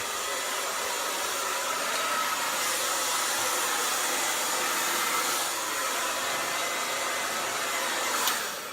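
A hair dryer on full heat and full blast, a steady loud roar of rushing air that runs unbroken throughout.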